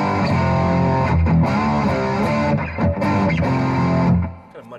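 Distorted electric guitar through a Roland Cube 80XL amp on its metal setting, played loud and steady with chugging, sustained notes that thin out and fade near the end.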